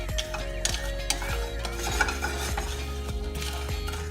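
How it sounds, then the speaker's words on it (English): Spices toast in a smoking-hot pan for pho while a utensil stirs them in quick, regular scrapes and taps, with a light sizzle running underneath, close by. "We're going to continue stirring while it's smoking"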